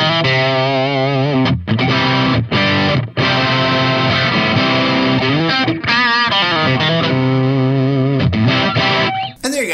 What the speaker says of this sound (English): That is a lick that you can use for rock or country.